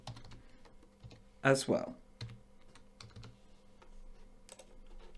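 Keystrokes on a computer keyboard tap sparsely and fairly quietly while someone works in a code editor, with a short burst of speech in the middle.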